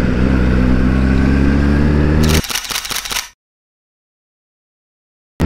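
A motorcycle engine runs loud and close with a steady, throaty drone for about two seconds, then breaks into a rattling clatter and cuts out into silence.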